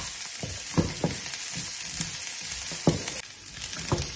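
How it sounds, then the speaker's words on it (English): Cashews and onions sautéing in a pan for an Indian palak paneer, a steady close sizzle broken by several bright scraping stirs of a spoon against the pan, with no talking. "let them also get a little bit brown, saute them"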